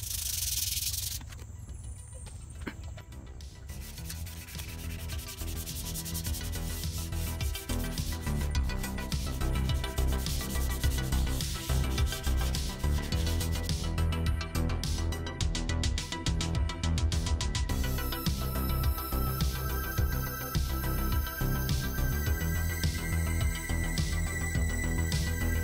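Steady, close rasping rubs of wet sandpaper with soapy water across a Yamaha Vixion motorcycle fuel tank, continuous and even over a low background hum.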